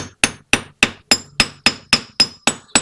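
Ten sharp, ringing hammer blows on a 1966 Honda 305 Scrambler engine part in a steady, even rhythm, each strike loud and close with a brief metallic decay.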